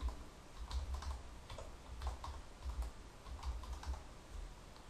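Password being typed on a computer keyboard: a steady run of light, quick key clicks in irregular bursts, fairly close and quiet, with no voices.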